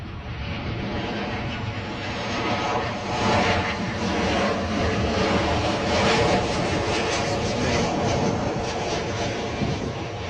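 Ryanair passenger jet landing at Bristol Airport, its engine roar loud and sustained throughout, swelling slightly in the middle as the aircraft passes, with no talk over it.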